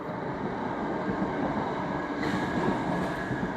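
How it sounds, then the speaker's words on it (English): A train runs on the line from Broadbottom station toward Manchester Piccadilly, heard from nearby woodland as a steady, fairly loud rumble with a faint rail hiss that lasts throughout. "here's the train coming from Broadbottom station going to Manchester Piccadilly"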